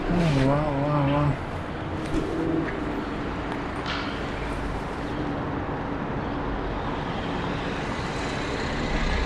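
Steady traffic noise fills a city street in Yorkville as a car passes, with pigeon-like cooing and a voice near the start over the constant roadway rumble.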